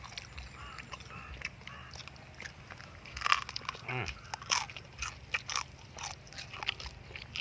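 A large fried scorpion being bitten and crunched, with a few close, crisp cracking bites and chewing scattered over the clip amid a faint murmuring background.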